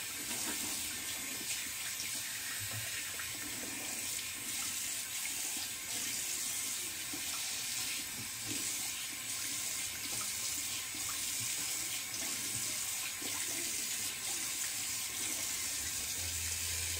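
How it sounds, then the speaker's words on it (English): Tap water runs steadily into a bathroom sink as a steady broadband splash, with cold water being cupped and splashed onto a face during a beard trim and wet shave. It is close and continuous, with no talking. "All right, a little cold water on the face."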